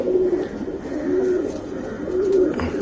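Pigeons, a male and a female, cooing close by: soft, low repeated coos in a steady rhythm over a murmur of background noise.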